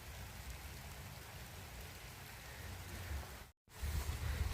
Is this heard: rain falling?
yes